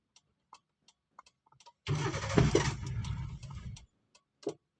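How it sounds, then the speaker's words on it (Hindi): A car engine cranks on its self-starter for about two seconds, a loud churning whir that stops without catching, set between faint scattered ticks and quiet surroundings. "पूरा सेल्फ मारोगे तब गाड़ी स्टार्ट होगी ना"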